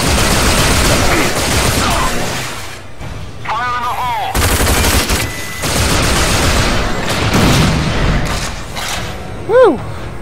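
Dense, loud video game combat in RAGE with continuous gunfire and blasts consistent with grenade explosions, a constant roar of booms and shots throughout, with a voice talking over the action.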